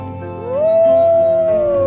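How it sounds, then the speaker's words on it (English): A lone wolf howl rises in pitch and holds a long, steady, mournful tone for well over a second, loud and close with nothing else sounding. "when you hear a wolf howl"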